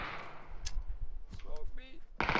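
Gunfire in the battle-royale video game PUBG: a few sharp shots cut through game noise and background sounds, with people talking over the action.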